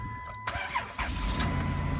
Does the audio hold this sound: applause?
no